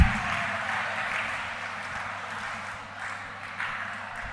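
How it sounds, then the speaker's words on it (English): An audience at a college commerce department event applauds forum representatives, with a steady wash of clapping from a crowded hall that holds throughout and swells slightly near the end. "So give a very big round of applause for each and every forum representative"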